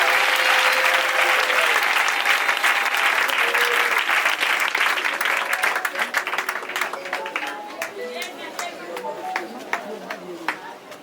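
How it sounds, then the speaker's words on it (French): A church congregation applauding Jesus, dense loud clapping from a large crowd that thins into scattered claps toward the end, with voices and chatter mixed in. "Quand on dit acclame Jésus"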